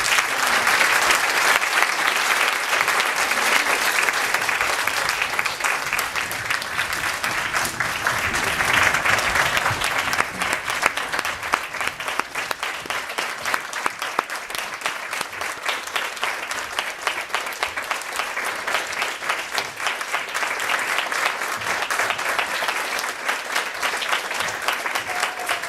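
Sustained audience applause after a lecture at Stanford, a dense, even wash of many hands clapping that continues steadily for over twenty seconds.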